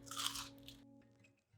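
A crunchy piece of air-fried, sourdough-battered summer squash is bitten close up, giving a short, crisp crunch that fades into quieter chewing.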